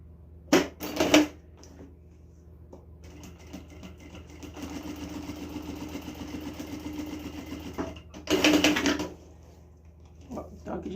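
A sewing machine stitches straight across a document-holder pocket, two short loud bursts of stitching about a second apart early on, a softer steady run through the middle, then another loud burst, with a faint low hum throughout.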